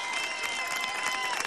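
A brief burst of studio audience applause and crowd noise on a televised dance competition special, dense and even over a second and a half.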